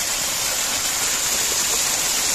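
Waterfall on Karanjade hill with water pouring down in several streams, a loud, steady, broadband rushing roar that holds constant and close with no breaks.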